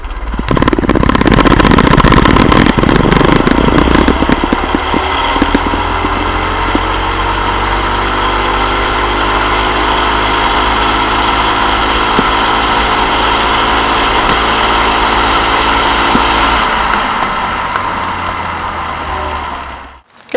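A stock Predator 212 Hemi engine on a small red go-kart runs steadily and loudly for about twenty seconds, a buzzing single-cylinder drone holding near-constant revs with a brief surge at the start before cutting off at the end.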